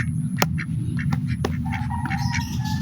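Chickens give several short, sharp squawks and clucks close by over a constant hiss of heavy rain.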